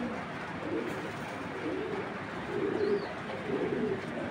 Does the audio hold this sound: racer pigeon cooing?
yes